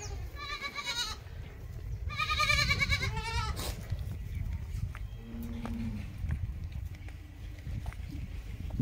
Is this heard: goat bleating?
yes